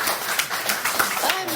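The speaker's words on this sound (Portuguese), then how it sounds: "não resisto a pedir uma salva de palmas para a tua intervenção" An audience gives a round of applause after a talk on Camilo Pessanha, a moderate burst of clapping with distinct claps, while a voice speaks over it and rises in pitch toward the end.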